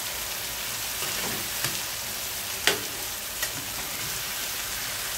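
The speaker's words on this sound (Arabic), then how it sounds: "نقلبها كده كل شويه، نقلب فيها لحد ما تحمر من ناحيتين الاثنين اهي." Shish tawook chicken pieces fry in a pan, a loud continuous sizzle broken by a few sharp clicks and scrapes as they are turned.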